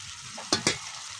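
Mixed chicken-roast spices sauté with fried onions in a pan, a brief low sizzle marked by two quick scraping stir strokes.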